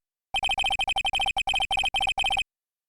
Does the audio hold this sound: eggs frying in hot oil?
no